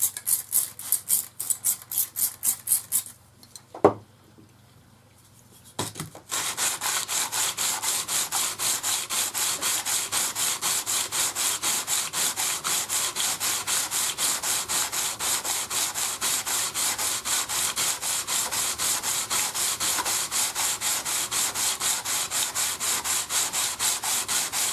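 A planer blade held in a shop-made sharpening jig rubs back and forth on a finer abrasive grit, a steady close rhythmic scraping that starts, pauses briefly, then runs continuously without talk.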